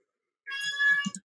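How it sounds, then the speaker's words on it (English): A house cat gives a single short, bright meow close to the microphone, followed by a soft trailing murmur, with near silence before it. "that was my cat"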